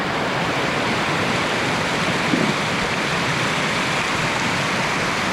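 Steady rushing of stream water near Hebbe Falls as riders wade across during the monsoon, a dense, even wash of flowing water with no voices.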